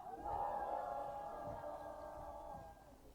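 At a union's Lunar New Year press conference, a crowd gives a faint, low, drawn-out cheer that sounds more like booing. It swells for about two and a half seconds, then fades.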